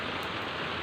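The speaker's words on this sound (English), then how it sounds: "if it rains continuously like it is here" Steady rain falls on a street, a dense, even hiss of drops spattering the surface, close and continuous with no voices.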